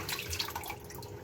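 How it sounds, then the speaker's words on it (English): Water running and trickling off freshly soaked spinach, likely into a sink, heard as a brief, soft, splashy stream lasting about a second with no talk. "let the water drain out"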